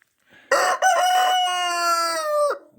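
A hen lets out one loud, drawn-out crowing call close by, a strained tonal cry lasting about two seconds after a brief rustle, with no talking over it.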